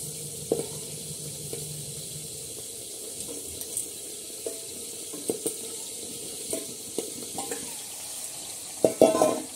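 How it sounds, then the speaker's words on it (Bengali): Fish frying in a pan at an outdoor cooking spot, heard as quiet, sparse crackles and pops over a low background, with a louder clatter near the end. "অনেক বড় কাজ এই মাছটা ভাজার।"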